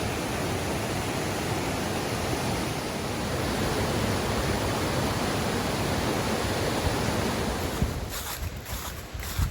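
A waterfall on a wilderness stream in the Middle Prong area pours as a steady broadband rush, loud and unbroken, with a few brief knocks near the end.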